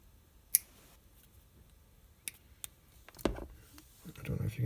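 Scissors snip through braided fishing line at an angle while a new reel is being loaded, giving one sharp close cut followed by softer handling rustles.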